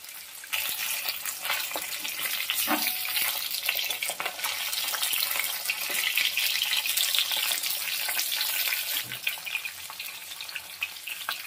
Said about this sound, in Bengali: মাছগুলোকে একদম বেশি লাল লাল করলাম না, আমার হালকা করিনি, এরকম মিডিয়াম করে ভেজে তুলে নিলাম।